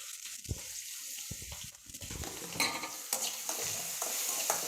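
Onions and salt sautéing in a pan for an eggplant fry are stirred with a spoon, giving a steady sizzle with repeated scraping and clinking strokes, close and fairly quiet.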